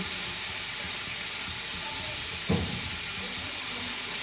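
Potatoes fry in a pan with a steady, even sizzle throughout, broken by one brief louder thump partway through.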